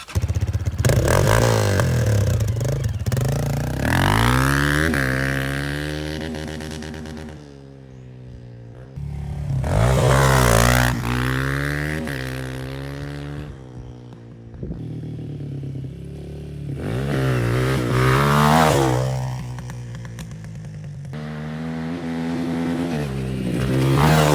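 A Honda CRF230F dirt bike with freshly rebuilt forks being ridden hard, its single-cylinder engine revving up and down through repeated loud acceleration sweeps and gear changes, close and continuous, with some clatter.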